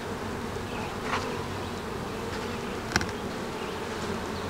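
Honey bees swarm over a hive frame during a small honey harvest, giving a steady, close, droning buzz throughout, with one brief louder pass of a bee near the end.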